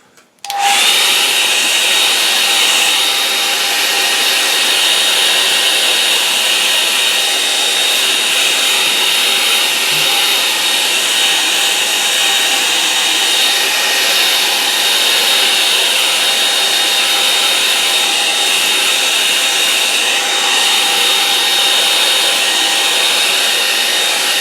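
Hair dryer drying paint in a barn, starting abruptly and then holding a loud, steady, even whoosh with no talking.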